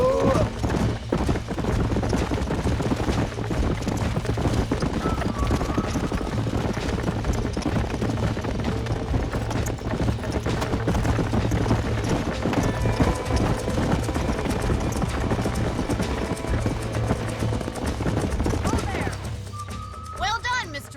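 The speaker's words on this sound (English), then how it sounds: "These are fine horses." Horses clip-clopping in the Western video game Red Dead Redemption, steady hoofbeats running continuously at close range over game ambience, with brief voices and a whinny-like tone late in the sequence.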